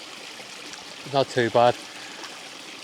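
A mountain stream in the Mournes flowing, a steady close wash of running water heard under a brief spoken remark.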